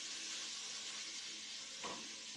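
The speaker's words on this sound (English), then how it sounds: "I'm going to fry that up." Fajita meat frying in a pan gives a steady, close hiss and sizzle, with a brief stir or clatter near the end.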